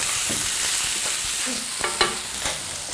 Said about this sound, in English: Just gonna add all of our shrimp.